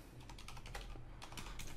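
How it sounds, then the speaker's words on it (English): Quiet, continuous typing on a computer keyboard, a rapid patter of soft key clicks taking notes in Microsoft OneNote, with no voices. "I'm just typing away."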